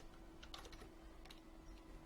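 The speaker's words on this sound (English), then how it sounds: "Oops, sloppy typing today" Computer keyboard typing during a music production session, a faint scattering of soft key clicks in two short bursts over a steady low background hum, no voices.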